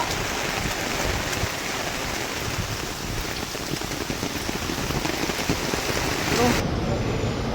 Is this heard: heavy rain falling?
yes